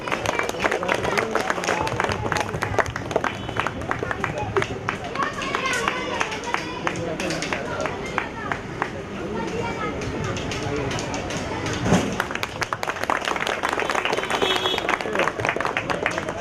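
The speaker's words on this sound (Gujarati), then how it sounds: "જોરદાર તાળીઓથી મિત્રો વધાવજો એકવાર." Sustained applause from an audience at a group felicitation ceremony in Bahucharaji, with dense, steady clapping and crowd murmur running continuously at an even level.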